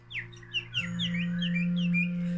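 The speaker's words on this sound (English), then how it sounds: "So I love the birds, as you can hear." Bright bird chirps and tweets repeat over a sustained, steady low tone in meditation music, the calls quick and close against the smooth hum.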